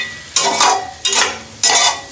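Egg chilli being stirred as it roasts in hot oil in a pan, three rhythmic scraping sweeps over a steady sizzle, close and fairly loud with no talking.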